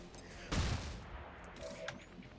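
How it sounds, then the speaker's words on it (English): A flashbang grenade goes off in the turn-based game XCOM 2 with a single loud, broad burst of noise that rings out and fades into a low ambient hum and a few faint clicks. "this time we got him right where we want to have him, which means time for a flashbang"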